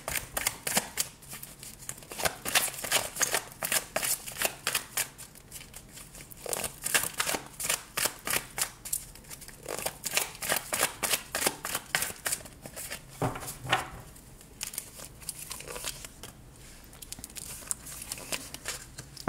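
Tarot cards being shuffled by hand, rapid rhythmic flicking and riffling in close bursts that run almost without pause, with brief quieter stretches between rounds.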